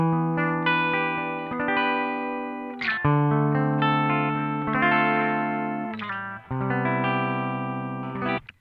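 Distorted electric guitar played through a VOX Valvenergy Silk Drive overdrive pedal, heard alone as loud, sustained strummed chords that change every second or so, with a few sharp attacks and one brief break.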